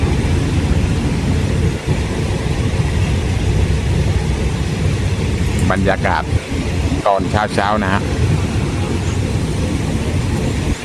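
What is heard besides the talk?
local train 447 departing Ban Song station, Surat Thani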